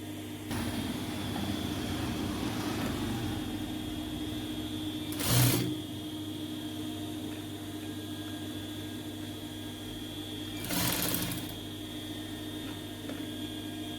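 A sewing machine stitches a hand design with a steady low mechanical hum and whir throughout, broken by two brief louder bursts of rapid stitching; no talk.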